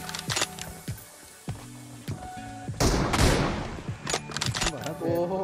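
Gunshots in PUBG Mobile, with several sharp shots followed by a dense burst of rapid fire in the middle and more scattered shots after, all loud and close, with game sounds between.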